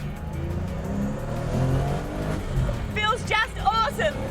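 A Porsche 930 with a four-speed gearbox accelerates hard in first gear. The engine note swells and rises close by while a voice talks over it.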